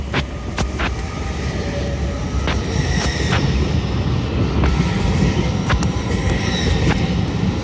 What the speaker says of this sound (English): departing now is York to London King's Cross